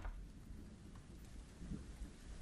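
Faint, steady rain patters with a low distant rumble of thunder underneath, quiet and continuous.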